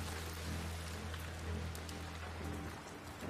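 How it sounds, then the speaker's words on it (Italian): Light rain falls outside in The Last of Us Part II video game, a soft continuous patter of drops heard alone at low volume. "La pioggerellina fuori."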